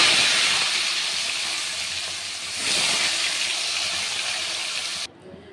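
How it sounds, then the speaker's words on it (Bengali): Pomfret fish frying in hot oil in a wok, a loud continuous hissing sizzle that swells midway and stops abruptly near the end. "মাছগুলোকে ভেজে নেব।"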